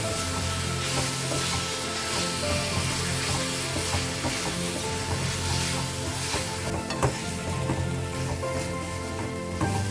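Prawns sizzle steadily in a hot pan while a utensil stirs and scrapes through them repeatedly, with no one speaking.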